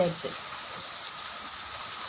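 Steady hiss of rain falling, soft and even throughout, with a brief faint sound at the start.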